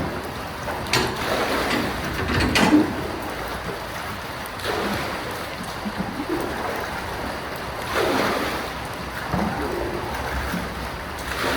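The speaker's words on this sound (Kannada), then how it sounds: "ಫುಲ್ಲು ನೀರು ಜಾಸ್ತಿ ಮಳೆಯಿಂದ ಫುಲ್ಲು ಮನೆಗೆಲ್ಲ ತುಂಬ್ಕೊಬಿಟ್ಟೈತೆ." Floodwater from heavy rain fills a house, a broad continuous rushing and sloshing of water close by, swelling and easing in waves without any speech.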